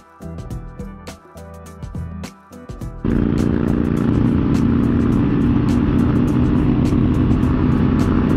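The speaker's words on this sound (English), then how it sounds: "My God, this V-Strom has power. No downshifting required. Just roll on the throttle" A Suzuki V-Strom motorcycle on a mountain road rolls onto the throttle, shifting from uneven lower engine pulses into a loud, sustained roar of acceleration with wind noise, close to the rider.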